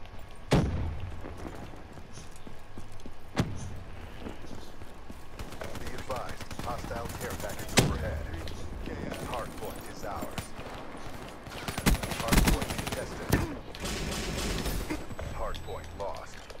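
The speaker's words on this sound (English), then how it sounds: "Let's try my shotgun." A shotgun fires in Black Ops 3, loud isolated booms spaced several seconds apart amid dense game combat noise and other gunfire, with a person talking over it.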